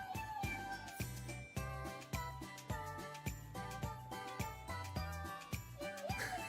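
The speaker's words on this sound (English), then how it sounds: "Pay no attention to the meow sounds from my monitor." Cats in a desktop cat-train game meow from a computer monitor, the meows mixed with bright, jingly, rhythmic game music playing at low volume, with no voices.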